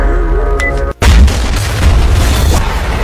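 A factory blowing up in the film Demon City: a heavy, loud boom that bursts in after a brief gap and rolls on as a dense, rumbling roar.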